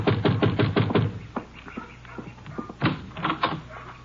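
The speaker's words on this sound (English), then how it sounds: "You better knock again." Door knocking as a radio drama sound effect in an old Western serial: a rapid burst of about six sharp knocks, a pause with softer taps, then another quick run of four or five knocks, close and crisp.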